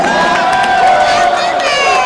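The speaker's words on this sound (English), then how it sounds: "Please give a big round of applause" Loud crowd cheering, applauding and shouting in a large arena at the 2013 ASEAN Basketball League finals, a continuous roar of many voices.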